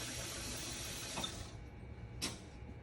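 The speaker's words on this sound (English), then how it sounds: "I'll get over here to the sink, and I'm going to rinse it several times" Water runs steadily from a kitchen tap over rice being rinsed in the sink, a soft continuous splash that thins out halfway, then a brief second gush.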